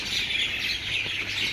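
A large flock of birds arrives on a paved road in front of a school gate to eat scattered food, filling the air with a dense, continuous wash of high chirping and twittering and no voices.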